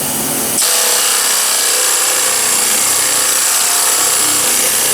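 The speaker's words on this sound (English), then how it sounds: "I'm going to use the straight line sander." A straight line sander works over the side scoops of a 95 Vert car, starting abruptly and then running as a loud, steady abrasive whir with constant rubbing grit, close and continuous with no talk.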